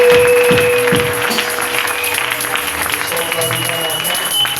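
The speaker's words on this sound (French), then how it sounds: "Je disais, on acclame le Seigneur." Church congregation applauding and cheering to acclaim the Lord: dense, steady clapping from a large crowd filling the whole stretch, with voices mixed in and a sustained tone at the start.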